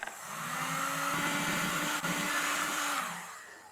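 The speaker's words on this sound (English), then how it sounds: "I'll give it one last blast with the heat gun" A heat gun blasts hot air over a clay pottery vase wall, a steady broadband whoosh with a faint motor whine running loud and unbroken for several seconds before cutting off near the end.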